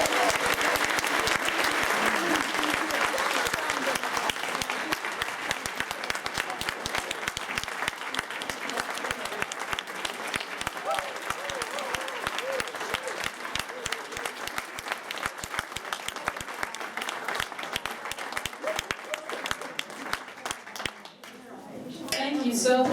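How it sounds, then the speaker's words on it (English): An audience at a breakfast gathering breaks into sustained applause, dense clapping filling the room for about twenty seconds before tapering off near the end. "Let's give them a big round of applause."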